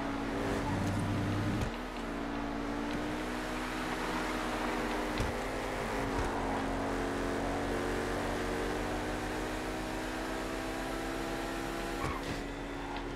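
A Torero XO sports car racing in GTA, its engine droning steadily at high revs with a sustained tonal whine, a brief shift or dip near the start and faint clunks along the way.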